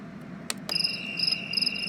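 Recorded cricket chirps play from a sunrise wake-up light alarm clock, the JALL K8, as a steady high trill in short repeating bursts, with a couple of sharp clicks near the start.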